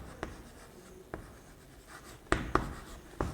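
Pen scratching on paper during a maths lesson, with a few sharp taps and short strokes spaced irregularly over a quiet background, no talk.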